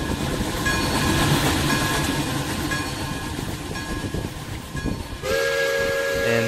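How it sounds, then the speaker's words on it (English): A steady rumbling train clatters along in the game RO-Scale Sandbox, then a loud, sustained steam-train whistle blows near the end, sounding game-like and close. "There's the whistle."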